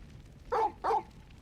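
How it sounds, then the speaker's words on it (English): Torgal, the dog in the video game Final Fantasy XVI, gives two short, clear barks in quick succession, close and distinct over a quiet background. "He still sounds like a video game dog."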